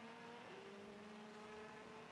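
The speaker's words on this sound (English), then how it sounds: "That's the noise of the Audi." Audi diesel race car engine at Silverstone during the 2012 FIA WEC 6 Hours race, heard on board as a steady loud drone with one rising tone shift, continuous with no speech.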